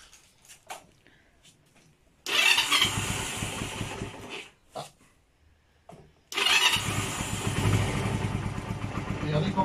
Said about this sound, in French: On démarre la moto.